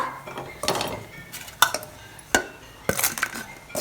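Sautéed radish and coconut being tipped into a metal vessel, giving a few sharp metallic clanks and scrapes spread over a few seconds, close and fairly clear.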